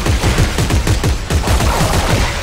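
Rapid automatic gunfire rings out in Dead Space 3 as enemies are shot. The bursts are loud, dense and rhythmic, in a steady stream of repeated shots with no talk over them.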